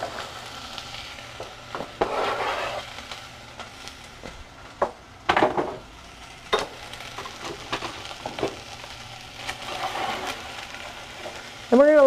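Diced onion and chopped baby carrots cook in a pan for minestrone soup, a steady low sizzle broken by occasional utensil scrapes and knocks, with brief faint voice sounds near the end.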